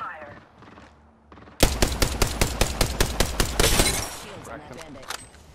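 Automatic gunfire in the video game Apex Legends breaks out after a moment of quieter game sounds and voice: a loud, rapid burst of a dozen or so evenly spaced shots, then a brief rattle as the firing trails off.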